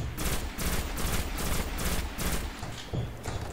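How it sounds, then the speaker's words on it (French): A burst-fire weapon shooting in the video game Destiny, heard as repeated loud bursts of rapid shots separated by short pauses, close and steady, with no talking. "Ah, une arme à rafale."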